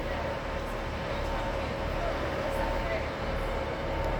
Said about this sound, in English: Here's a train coming in.